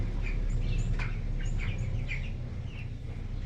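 Backyard poultry chirp and call softly in scattered short notes over a steady low rumble of background noise.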